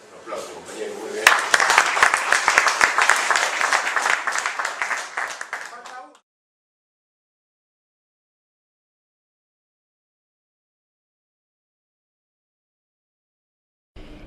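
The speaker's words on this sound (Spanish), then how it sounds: "Un aplauso, compañero, muy bien." Audience clapping for a classmate after a presentation, a brief burst of scattered hand claps lasting several seconds under a voice, then cutting to silence.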